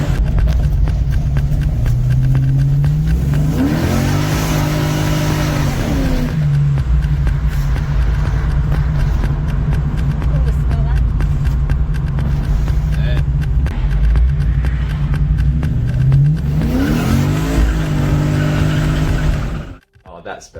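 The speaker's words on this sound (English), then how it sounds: "A little bit of V8 action" A V8 car engine revs hard twice, rising and falling in loud, throaty sweeps near the start and again near the end, with a steady idle rumble between and a sudden cut-off at the close.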